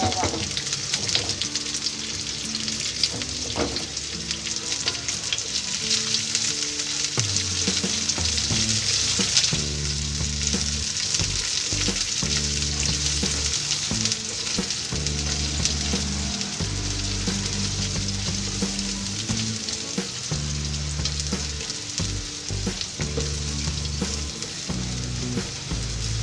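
Chili and scallion stems stir-fry in a pan with a loud, continuous sizzle and hiss, broken by bursts of stirring and scraping, with faint talk in the background.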